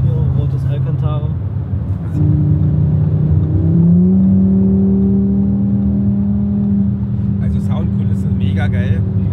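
A 2022 Audi RS 3 Sportback on air suspension revs its exhaust, the engine note climbing and holding in a loud, close, droning rise while people talk over it.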